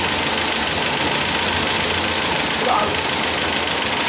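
The engine of an MGB Roadster idles steadily with a constant rumble and knocking while its carburetor is adjusted, and a voice speaks briefly over it.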